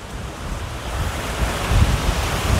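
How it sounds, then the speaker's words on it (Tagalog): Gusty wind blowing across the microphone on a woodland walking trail, a loud continuous roaring rush that swells toward the end, with no talking. "So, ngayon, malinis na, medyo mahangin."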